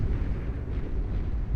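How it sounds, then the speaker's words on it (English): A Dreadnought warship fires its quadra cannons in the strategy game Beyond All Reason, a heavy, rumbling barrage of deep booms blending into a continuous low roar for a moment. "Dreadnought firing away with those quadra cannons"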